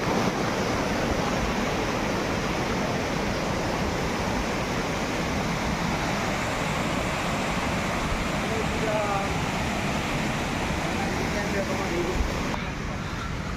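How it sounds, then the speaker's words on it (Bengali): Water flowing down from the hills toward a waterfall gives a steady, loud broadband rush throughout, with a voice faintly heard under it near the end. "দেখো, জল আসছে পাহাড়ের কোল দিয়ে জল আসছে।"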